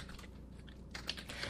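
Keystrokes on a computer keyboard while entering a formula in an Excel 2007 spreadsheet, with soft scattered taps early, then a denser burst of quick clicks in the second half, close and fairly quiet, with no talking.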